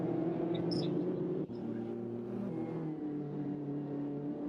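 Mini race cars circle Snetterton circuit in a sim racing game, their engines producing a steady droning hum with layered tones and one abrupt dip partway through, with no talking.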